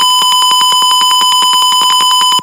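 Simulated buzzer in a Tinkercad gas sensor circuit, sounding a rapid, steady train of loud electronic beeps over a constant tone for the whole stretch, with no voices.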